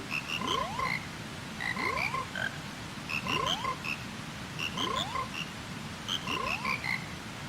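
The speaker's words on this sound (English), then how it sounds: "Could you reunite the frog band so they do a little dance together?" The frog band from the video game Majora's Mask croaks in a repeating musical pattern, bursts of croaks recurring roughly every second and a half, clear and steady with no talking.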